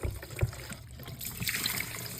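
Clean water trickling and dribbling out of a lifted mop bucket tank, a soft, uneven liquid patter at close range with brief splashes.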